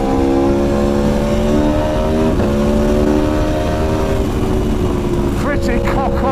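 A 2019 Aprilia Tuono Factory motorcycle engine revs loudly and steadily, with harmonic engine tones that dip briefly and then climb again as the throttle rises toward the end.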